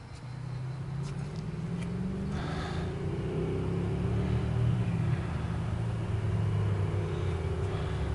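A four-wheel-drive Dodge Nitro R/T sport utility with a 4.0 engine is driving, heard as a steady low engine and road rumble with slight rises in revs and no speech.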